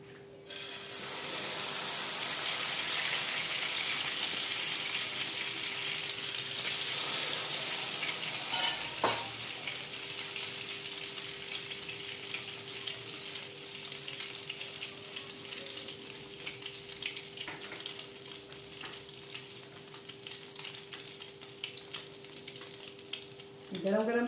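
Anda shami tikki pieces fry on a hot pan with a loud, steady sizzle that slowly fades, a faint tonal hum underneath, and occasional clatter from a utensil.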